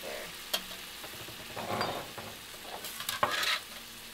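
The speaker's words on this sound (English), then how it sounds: "it sizzles right there." Kimchi for kimchi fried rice sizzles and fries in a hot pan with a steady, soft crackle. Scattered scrapes and clicks from stirring sit on top, and no one talks.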